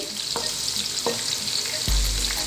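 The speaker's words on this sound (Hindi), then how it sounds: "अब इसके अंदर एक कटा हुआ प्याज अंदर ऐड करूँगी, और इसको हम लाइट ब्राउन करेंगे" Chopped onion fries in a cup of oil, a steady bright sizzle with a few soft clicks of stirring, loud and close, with no talking.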